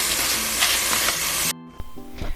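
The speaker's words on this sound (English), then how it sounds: "Gonna add some salt. That helps sweat the mushrooms, get some of that liquid out of them." Mushrooms sizzle loudly in a hot pan with salt and pepper, a dense steady frying hiss that cuts off abruptly and gives way to a few quieter clatters.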